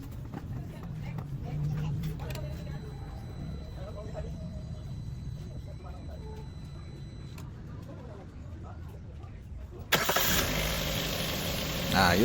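A Suzuki Ertiga engine starts after a battery replacement: a quiet stretch with faint voices, then near the end a sudden crank and catch into a louder running engine.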